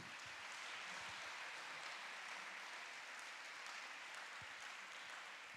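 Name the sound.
congregation applauding in church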